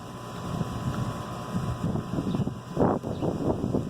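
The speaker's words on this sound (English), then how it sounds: "Chilly and windy." Steady wind buffeting the microphone in gusts, a low rumbling roar that swells and dips, with no voices.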